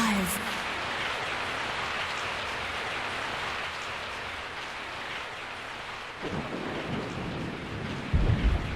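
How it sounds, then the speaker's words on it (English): In the Resident Evil 3 video game, rain falls steadily with a soft hiss while thunder rumbles in the distance, and a deeper thunder crack lands near the end. "I woke up to the sound of falling rain."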